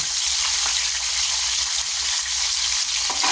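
Loud, steady crackling sizzle of fish frying in hot oil, a dense continuous hiss close up with no voices.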